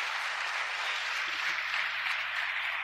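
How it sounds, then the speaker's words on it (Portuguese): A church congregation claps in a steady, dense round of applause that holds at an even level throughout, heard at a moderate distance. "Vamos aplaudir Jesus."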